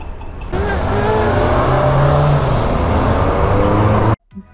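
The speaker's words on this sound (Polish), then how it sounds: "Zabytkowe samochody." Vintage cars drive past on a city street in Białystok, a loud engine roar and rising whir that sweeps through for several seconds, then cuts off abruptly.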